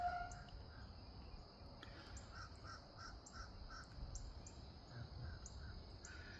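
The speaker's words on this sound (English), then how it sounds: "listen to the birds. Including the crows flying around." Crows cawing outdoors in a garden, a series of short repeated calls at a moderate distance, spaced irregularly over steady background bird and insect chatter.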